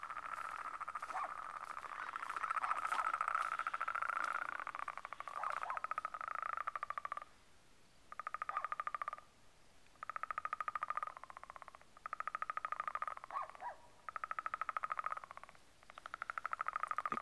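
A chorus of frogs calling from a lake, rising and falling in dense rhythmic bursts with brief pauses between, moderately close and continuous, with no voices.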